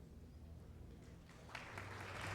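Concert audience applause at the Academy of Music in Philadelphia, a live 1974 orchestral performance, beginning as a faint, distant rustle and swelling into steadier clapping over the final second.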